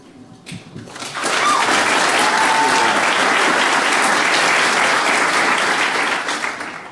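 Audience applause at a DEF CON security conference talk: after a brief quiet start, dense steady clapping swells up and holds loud and even across the hall, easing slightly at the end.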